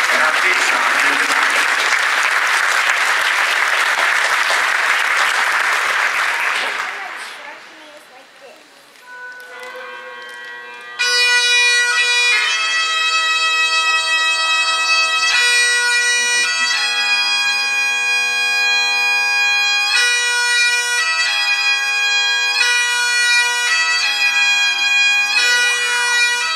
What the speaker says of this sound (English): how about a round of applause for Deborah Gray and her Gypsy Vanner